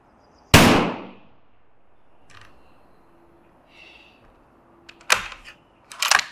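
Ruger American Ranch rifle fired outdoors at a 100-yard target, one sharp loud shot followed by quiet, then two more cracks near the end, each with a brief echoing tail.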